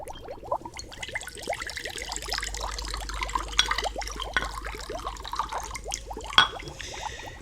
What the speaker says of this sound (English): Now, into the cauldron it goes. A vial of eel venom.